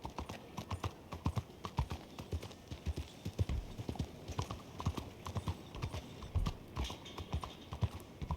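Horse hooves clip-clop in a quick, steady rhythm in Red Dead, close and fairly quiet, with faint speech under the hoofbeats.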